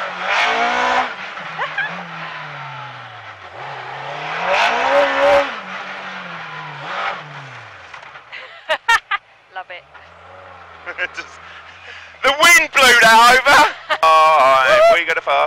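Darrian T90 race car with worn-out tyres drives at speed, its engine note rising and falling through gear changes from inside the cabin, later broken by clatter and loud voices talking over it.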